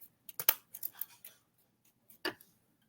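Scissors cutting a piece off a roll of material for a handmade creature build: a quick series of sharp, close snips, then a pause and one more crisp snip near the end.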